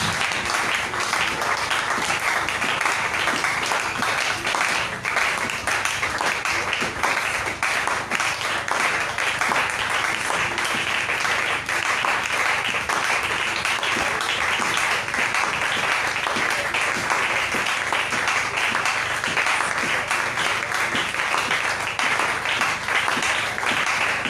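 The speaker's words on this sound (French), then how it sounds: "Acclamons le Seigneur Jésus." A church congregation applauding and cheering in acclamation, a dense, continuous roar of clapping and voices filling a large hall at high volume for the whole stretch.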